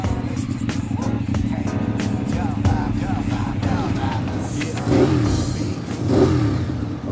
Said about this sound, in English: now that the bike is up to temperature and we've got the bike running on the dyno